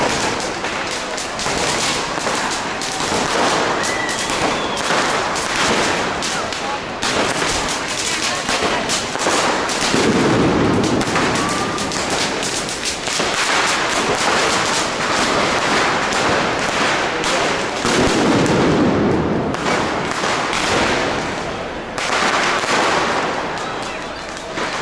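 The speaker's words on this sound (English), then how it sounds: "See the firework over in the distance" Fireworks and firecrackers popping and banging in a cordoned-off main square in Valencia during Fallas, with children setting some off; dense, loud crackling bursts continue throughout, with deeper thuds now and then and crowd noise underneath.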